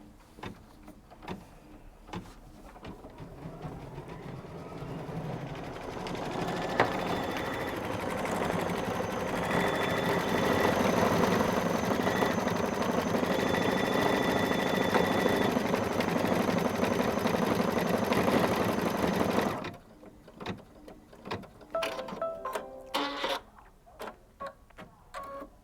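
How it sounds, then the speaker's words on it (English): A sewing machine stitches a decorative outline in yellow thread for a quilt block. The motor hums steadily and loudly for about fifteen seconds, then stops, leaving scattered handling clicks and taps. "let's go ahead and stitch"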